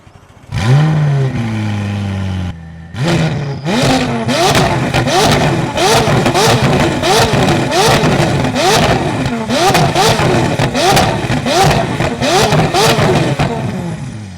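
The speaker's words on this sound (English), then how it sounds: "you guys gotta hear the McLaren" McLaren supercar engine starts with a rising whine, then revs hard again and again in a fast rhythm of sharp, loud blips that fill the clip up close.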